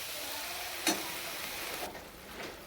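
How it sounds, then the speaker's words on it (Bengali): Medicinal leaves fry in a pan for a curry (jhol): a faint, steady sizzle with a brief scrape or stir near the start and soft clinks later, with no talk. "আমাদের সুন্দর করে ভাজতে হবে একটু ঢাকা দিতে লাগবে"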